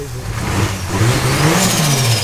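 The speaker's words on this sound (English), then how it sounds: "as you can hear with the muffler on, the front turbo induction noises are just" Turbocharged Ford AU Falcon with muffler fitted revving up close, engine pitch climbing steadily under a whooshing turbo induction noise and a faint rising whistle.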